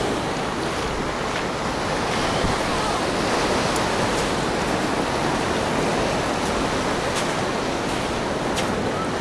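Surf rolls steadily onto a beach in Alanya's Oba district, a broad unbroken wash of waves with wind buffeting the microphone and a few faint clicks, loud and near, without speech.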